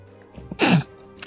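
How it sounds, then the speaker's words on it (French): A single sharp sneeze bursts out close and loud, short and explosive, against a quiet background with a faint trailing sound after it. "Désolé, j'ai éternué."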